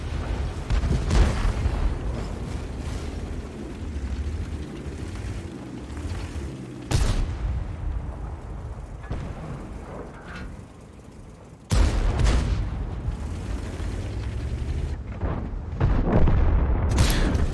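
Heavy tank cannon shots boom out in World of Tanks as a flanked tank takes fire from several angles, with sharp loud blasts around 7, 12 and 15 seconds over a constant rumbling battle din.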